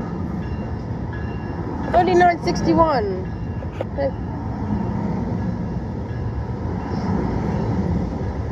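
An NJ Transit train departs, a steady low rumble of rail cars rolling past throughout, heard from trackside with a person briefly calling out over it.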